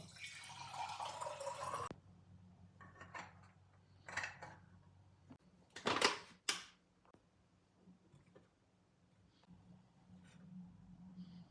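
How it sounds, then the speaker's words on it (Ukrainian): Coffee trickling from a home drip coffee maker, soft irregular drips and a few sharper clicks and clatters close by, fairly quiet overall. "кавуська вже витікає"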